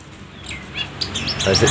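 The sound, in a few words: songbird singing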